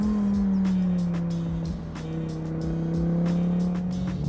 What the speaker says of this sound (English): we'll crack open the turbo 5-cylinder a little bit